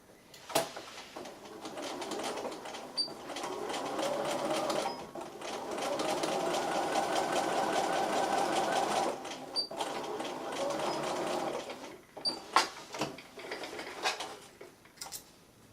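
Sewing machine stitches a dart on the foot of a soft toy bear, running in steady bursts with short pauses and a few clicks from handling the fabric, close up with no talking.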